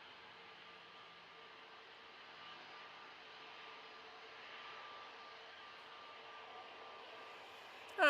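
A Jet2 Boeing 737 at Manchester Airport, a distant, steady jet engine roar hanging at low volume over a hushed background, with a brief sharp noise at the very end.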